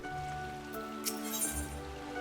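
Steady rain patters throughout a calm fishing scene in Final Fantasy XIV, a soft continuous hiss with a few light clinks and drips over a sustained musical drone, no voices.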